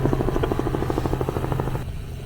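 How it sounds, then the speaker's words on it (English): A helicopter passes overhead near Tokyo Bay, its rapid rotor chop loud and steady against a constant low rumble, then thinning out toward the end of the short stretch with no talking. "Helicopter."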